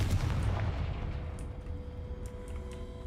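The Confringo fire spell in the video game Hogwarts Legacy goes off as a heavy blast at the start, followed by a rumble that fades away over the next few seconds.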